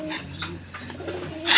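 Racing pigeons in a loft give soft, low cooing in a few short phrases, with a louder rustle or flutter near the end; close and moderately loud.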